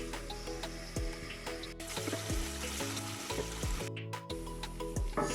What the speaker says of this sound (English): So we're going to let this cook until it's golden brown